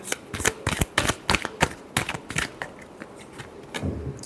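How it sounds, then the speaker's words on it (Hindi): Tarot cards shuffled in a rapid run of crisp riffles and slaps, close and fairly loud, with a burst of quick flicks and softer rustling toward the end; no voices. "last shuffle"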